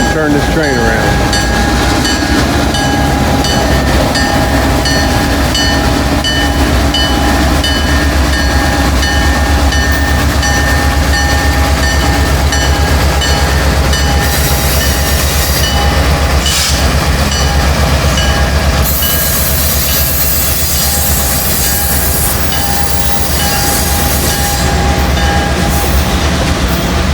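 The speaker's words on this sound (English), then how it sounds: "Watch him turn this train around." A train rolls slowly around a railroad wye, with steady wheel rumble, clickety-clack over rail joints and faint squeals of wheels on track, continuous and fairly close throughout.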